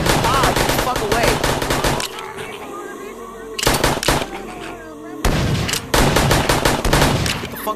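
Rapid automatic gunfire from a zombie survival video game, loud dense bursts of shots in three long volleys separated by short gaps, with no talk over it.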